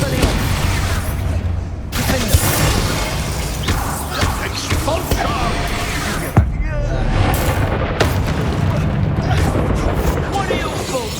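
Explosive blasts from the Expulso spell in Hogwarts Legacy go off loudly amid dense, continuous combat noise, with sharp booming hits near 2 and 6.4 seconds and voices talking over the fray.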